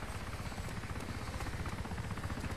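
A helicopter in the video game DayZ thrums steadily with a fast rotor chop, a continuous moderately loud drone heard alone.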